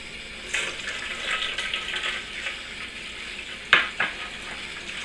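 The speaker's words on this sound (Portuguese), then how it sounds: "Vamos colocar aqui a água morna." Warm water poured into a pizza dough mixture, a soft continuous splashing trickle with a couple of sharper splashes near the end, close by and alone.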